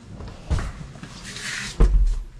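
A door being opened or closed, heard as two dull thumps about a second apart over a faint room hum, with no one speaking.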